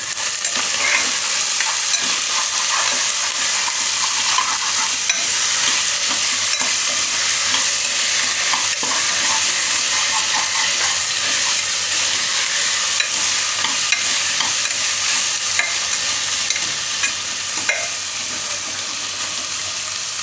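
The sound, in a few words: cauliflower added and stirred into pot for dal khichdi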